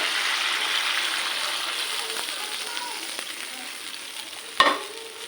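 Fish frying in a pan as water is poured in, a steady broad sizzle and hiss that fades slightly, with a sharp burst of spitting near the end; stirring noises faintly underneath.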